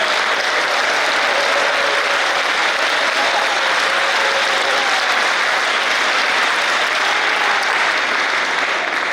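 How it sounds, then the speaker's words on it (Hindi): Loud, sustained applause from a large crowd, steady clapping filling the space throughout with no pauses. "अपने लिए हाथ ऊपर करके बजाओ तालियां"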